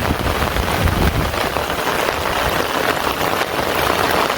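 Steady rain pours down on a village during the rainy season, a dense, even hiss of drops on surfaces holding close and constant without a break, with no voices.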